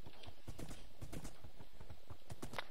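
Horses in the Minecraft video game clip-clop steadily along, a brisk irregular patter of hoofbeats that continues throughout at moderate loudness with no speech.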